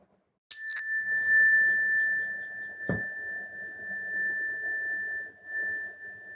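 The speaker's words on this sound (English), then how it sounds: "So listening to the sound of the bell as it changes over time." A meditation bell is struck once with a bright metallic ding, and its pure ringing tone hangs on and slowly fades over several seconds, with a faint soft rustle beneath.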